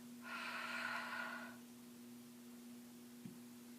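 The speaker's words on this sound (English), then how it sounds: "So I am going to stamp after breathing on my stamp to reactivate the ink." A single soft, breathy exhale is puffed onto a rubber ink stamp during card making, lasting just over a second, over a steady low electrical hum that continues afterward.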